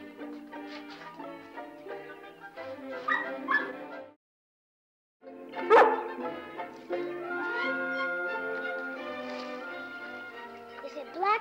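A wet puppy whimpers and yips in a farm setting, thin high whines and small cries coming in bursts around a brief pause, with people talking over and between them.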